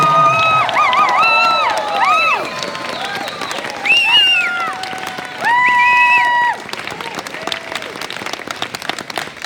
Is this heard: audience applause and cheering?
yes